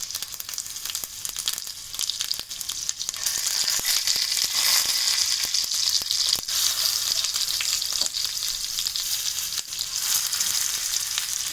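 Whole baby brinjals frying in oil, a steady loud sizzle and crackle that swells after a few seconds and holds, with occasional small pops, no voices.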